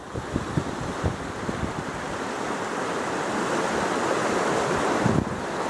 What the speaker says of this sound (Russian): Какие мощные потоки воды.